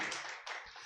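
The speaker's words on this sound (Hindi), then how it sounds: "एक बार जोरदार ताली।" A church congregation claps loudly in a short, dense burst of applause, close and lively, fading quickly.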